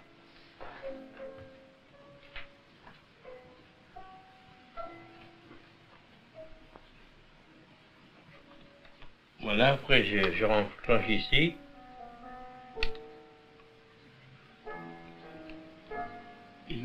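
A pendulum clock ticks faintly and steadily, mixed with small handling clicks and a burst of louder clattering midway, while someone speaks quietly over it.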